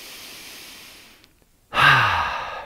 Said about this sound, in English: Let's take that deep, relaxing breath in through the nose,